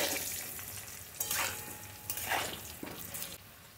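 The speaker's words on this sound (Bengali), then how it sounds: "হলুদ দেওয়ার সাথে সাথে তেলটা পুড়তে শুরু করে।" Oil crackles and sizzles in a pan as a pinch of turmeric is added, with a few louder spatula scrapes and stirring bursts over a steady low hiss.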